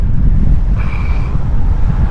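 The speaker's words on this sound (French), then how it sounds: "Je suis en train de me prendre la tête avec le vent de face là." Strong headwind buffets a cyclist's microphone on the open Kazakh steppe, a loud, continuous low roar that stays steady throughout.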